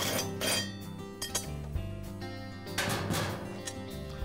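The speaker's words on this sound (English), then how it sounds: "Now I'll tip the mower onto its side and remove the blade." Metal clinking as the blade is removed from a lawn mower tipped onto its side during engine repair, with a few sharp clinks over a busy, steady background.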